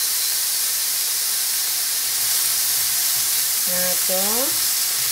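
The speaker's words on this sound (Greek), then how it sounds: "Τώρα μέσα στο τηγάνι μου θα βάλω το ginger, τα σκόρδα και το chili" Ginger, garlic and chili sizzle steadily in a frying pan, a loud, constant hiss that fills the whole stretch while a brief voice cuts in near the end.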